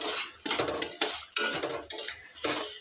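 Potato and fenugreek leaf curry with crushed garlic being stirred in a pan: a spoon repeatedly scrapes and clinks against the metal in uneven strokes, close and fairly loud, with no talk.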